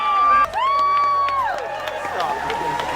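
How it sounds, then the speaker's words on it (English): A crowd cheering at an engagement proposal: loud whoops and high, sustained excited shouts over a busy background of voices, fading slightly but staying lively throughout. "The crowd goes crazy."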